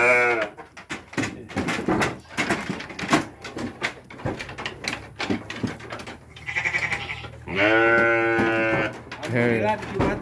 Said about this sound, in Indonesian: Tuh, ini domba-dombanya.